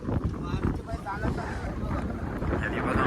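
Strong wind roars and buffets the microphone at sea on a pomfret fishing boat, with a boat engine rumbling beneath and someone talking through it.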